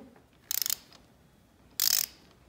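Ratcheting clicks from a hand ratchet tightening the clamp bolts on Barkbusters VPS motorcycle handguards, two close bursts of rapid clicking separated by a pause, with no talking.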